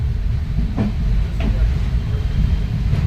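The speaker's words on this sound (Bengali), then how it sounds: "তবে ট্রেনটাই জাস্ট ছাড়লো" Long-distance train pulling out of its station at departure, a low, heavy rumble of rolling carriages with faint clanks, steady throughout the few seconds.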